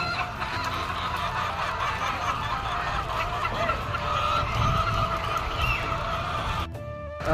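Crowded clucking and squawking from many laying hens inside a big poultry shed keeps up steadily and loudly throughout, with no talking, before dropping out sharply at the very end.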